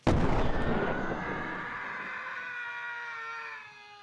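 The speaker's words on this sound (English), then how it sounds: "laser cannon set to fire on my mark. Initial weapons fire." Sci-fi laser cannon blast in a live stage play aboard a spaceship: a loud, sudden burst that rings out into a long, shimmering, slowly fading electronic tail with descending tones, no voices over it.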